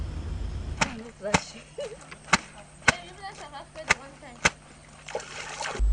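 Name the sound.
scrubbing and pounding clothes in river laundry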